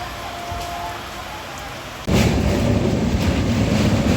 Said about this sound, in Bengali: ট্রেন যখন দুর্গাপুরে এসে পৌঁছলো তখন কিন্তু বৃষ্টির দাপট বেশ ভালোই